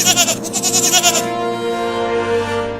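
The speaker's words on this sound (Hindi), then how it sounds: "बकरी।" A goat bleats loudly and close, one long wavering cry with a fast tremolo that settles into a steadier drawn-out tone.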